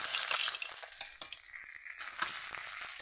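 Rohu fish head frying in hot oil, a close, steady sizzle and crackle with a few sharp spits, brief and without talk.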